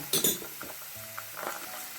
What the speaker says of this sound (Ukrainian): Ми це перемішуємо швиденько, щоб трішечки паста підсмажилася.